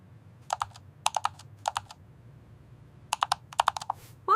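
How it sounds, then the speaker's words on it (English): Someone types a message on a computer keyboard, bursts of crisp, close key clicks in quick clusters separated by short pauses, with no talking. "I am typing a message."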